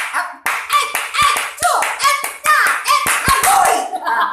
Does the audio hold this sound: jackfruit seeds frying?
no